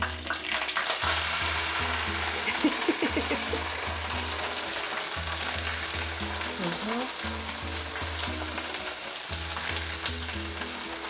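Steady crackling sizzle of small dried kapenta fish frying in hot oil, continuous and close, with occasional low thumps underneath.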